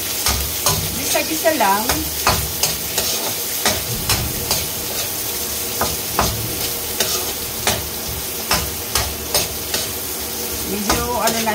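Carrots are added to a frying pan and stirred while cooking fried tilapia, with steady sizzling and repeated clinks and scrapes of a utensil against the pan, and a brief spoken remark.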